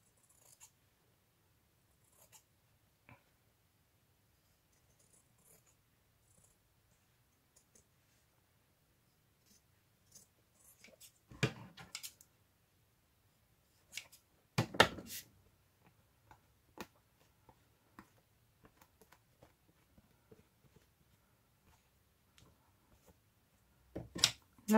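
Scissors cut a slim junk journal cover with a few quiet, scattered snips and clicks in a mostly silent room, clustered mid-way and at the end.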